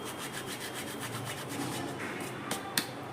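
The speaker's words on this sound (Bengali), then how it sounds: "এখানে দিয়ে দেবো আমি জোয়ানটাকে হাতের মধ্যে এভাবে ঘষে" Carom seeds (ajwain) are rubbed between the palms in a soft, gritty rustle with quick repeated strokes, close and fairly quiet, ending with a couple of light taps.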